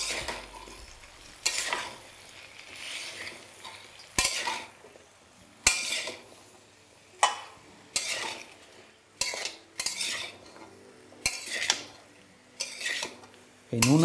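Red amaranth greens with turmeric and salt are stirred in a pan, a spatula scraping and clanking against the metal in repeated sharp strokes over a faint sizzle, close and clear.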